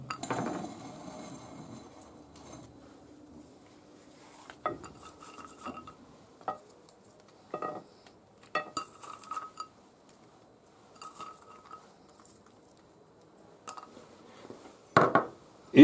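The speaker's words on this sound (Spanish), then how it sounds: "Echamos las nueces ahora" Walnuts tumble into a bowl of partridge escabeche salad, a run of light clinks and rattles against the dish, close and separate, with quiet gaps between them.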